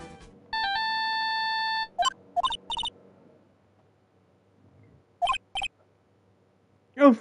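A mobile phone ringtone from the Ace Attorney video game plays as a steady electronic melody of tonal beeps, followed by short game text blips and chirps, with no voices.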